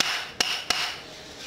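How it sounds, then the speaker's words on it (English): Two sharp hammer taps on wood, set a fraction of a second apart, knock a Roubo workbench leg joint flush against its blocks. They ring out close and crisp over a steady background hiss, with no talking. "the hammer, flush it up."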